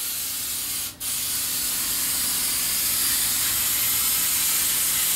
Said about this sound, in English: And I'm just using spray paint.